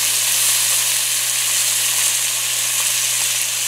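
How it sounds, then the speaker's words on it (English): Bacon frying in a cast iron skillet, a loud, steady, close sizzle with dense crackling spatter that holds evenly throughout, no voices. "So we're going to cook this bacon up"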